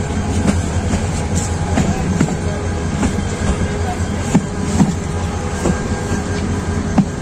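A passenger train rolls into Chittagong railway station, its wheels clacking rhythmically over rail joints with steady rumbling and faint squeals throughout, loud and close from inside the carriage.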